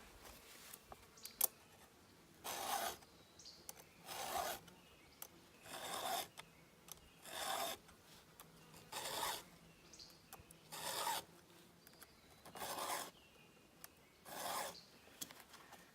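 A hand file sharpens chainsaw chain teeth in regular rasping strokes, about ten evenly spaced scrapes, each roughly a second long, close and clear with quiet gaps between and no talking.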